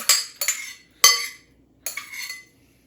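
Corn salad gets dumped into a big mixing bowl: four short clattering bursts of food and utensil scraping against the bowl, each fading quickly, with quiet gaps between them.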